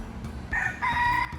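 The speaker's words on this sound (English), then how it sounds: "I got scared by chickens in the trees." A rooster crows from a short distance in Key West, a brief strained call over a low background rumble.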